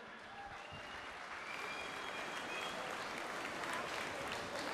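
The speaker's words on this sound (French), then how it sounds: "Et on applaudit une nouvelle fois nos 7 candidates," Audience applause for seven beauty pageant candidates at the Miss Wallis & Futuna 2020 gala, a steady dense wash of clapping that sustains evenly across the whole span at moderate distance.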